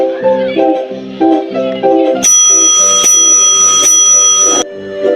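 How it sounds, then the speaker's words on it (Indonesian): A school entry bell at the start of the morning rings loudly and continuously for about two seconds, following a short melodic tune, then stops. "Tidak lama kemudian, bel masuk pun berbunyi."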